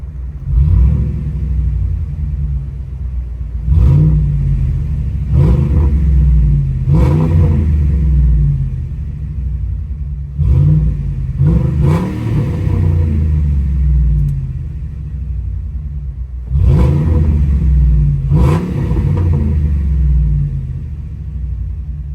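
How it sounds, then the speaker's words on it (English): Heard from inside the cab with the front windows down, a loud truck engine with the muffler deleted revs and accelerates in repeated surges, its raw exhaust and deep rumble filling the space. "let's see what the truck sounds like from the inside. Muffler delete, front windows down."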